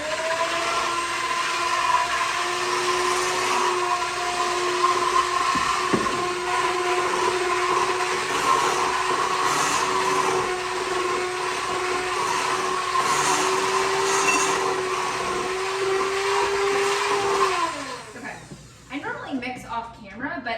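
An electric mixer whirs steadily through butter cake batter for about seventeen seconds, loud and close, before slowing and stopping, with someone talking over it.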